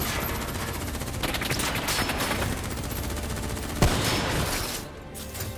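Sustained rapid gunfire rattles through a Call of Duty: Black Ops III campaign battle, dense and continuous, with one sharper bang near the end before it thins out.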